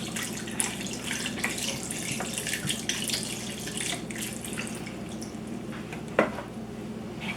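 Chicken stock from cartons pours into a pot in a steady, close liquid rush that runs throughout, with one brief louder knock near the end and no talking.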